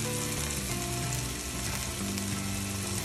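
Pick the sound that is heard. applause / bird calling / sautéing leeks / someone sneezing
sautéing leeks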